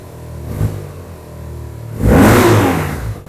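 A BMW R12 G/S motorcycle engine idles with a low, lumpy rumble. Partway through it revs up sharply into a loud, close roar, then settles back.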